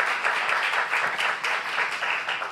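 A church congregation applauding during a Saturday worship service, a steady, fairly close wash of many hands clapping that continues without a break for the whole stretch.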